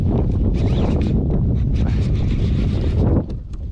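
Wind buffets a microphone during brackish-water fishing, a loud, continuous low rumble and rustle that dips briefly near the end, with no talk.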